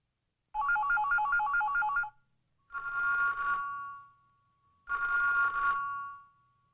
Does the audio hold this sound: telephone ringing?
yes